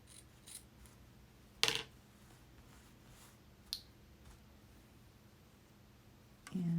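Scissors trimming fabric during hand stitching, a few sharp isolated snips with one louder cut near the start, quiet and close against a low background hum.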